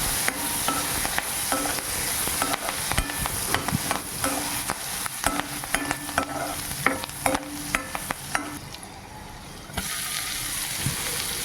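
Small chopped capsicum and green chilli pieces stir-frying in a pan, sizzling under repeated clattering scrapes and stirs with a brief quieter lull near the end.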